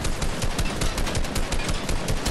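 Rapid automatic gunfire from a Fortnite match, loud and close, with dense continuous bursts of shots spread evenly across the whole stretch and no talking over it.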